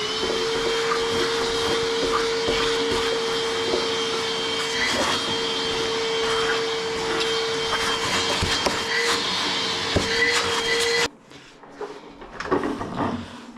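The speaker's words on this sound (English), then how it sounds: "And I need to vacuum this bitch." A vacuum cleaner runs loudly for about eleven seconds with a steady whine and occasional bumps as it is moved around a room, then cuts off abruptly, leaving some quiet handling noise.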